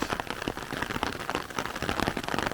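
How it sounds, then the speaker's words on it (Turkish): A heavy June rain shower pours down in a dense, steady hiss of drops drumming on surfaces, loud and continuous with no voices. "çok çiftçinin istediği yağmur bu yağmur"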